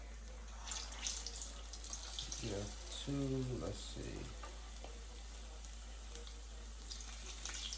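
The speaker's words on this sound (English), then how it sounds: "I just started sizzling." A soft hiss of chicken egg rolls frying in hot oil runs steadily under a man's speech, with brief clinks and kitchen noises.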